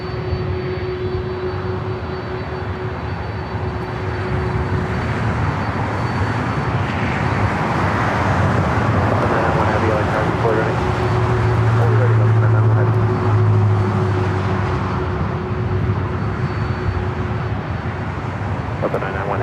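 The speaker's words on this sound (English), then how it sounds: "the next arrival, which is Korean Air Flight 11 747-8 Intercontinental" A Korean Air Boeing 747-8 Intercontinental in updated livery arrives at Los Angeles LAX, giving a steady, loud jet roar with deep low rumble that swells slightly midway and holds throughout, with voices faintly audible underneath.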